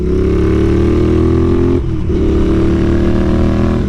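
A Royal Enfield Continental GT fitted with an aftermarket 2-into-1 exhaust revs loud and close, its engine note dropping sharply through a downshift midway before climbing back into a steady, throaty drone.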